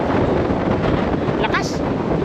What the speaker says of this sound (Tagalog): Halos madala yung butok namin dito sa sobrang hangin.